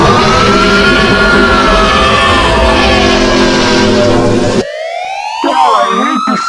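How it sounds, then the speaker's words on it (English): A loud, close emergency siren in an EAS alert scenario wails in long sweeping rises and falls, then shifts partway through to a different, sharper rising tone. "I hate the siren!"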